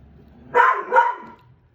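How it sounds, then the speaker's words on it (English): A dog indoors gives two quick, sharp barks in succession, close and loud against a quiet room. "It's hard to concentrate with her barking like this."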